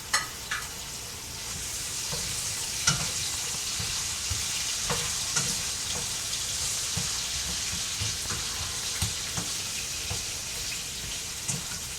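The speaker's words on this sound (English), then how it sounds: "Let's throw in some minced garlic with some oil and some salt." Minced garlic with oil and salt frying in a pan for a green bean and potato curry: a steady broadband sizzle with scattered stirring clicks and scrapes, moderately close, and no talk.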